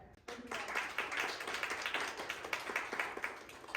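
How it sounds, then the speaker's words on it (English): Audience at a creative industry panel breaks into sustained applause for the panelists, a dense wash of many hands clapping that starts abruptly and carries on steadily to the end. "Please give a round of applause for our panelists who are gracious enough to be here to have this conversation with us today."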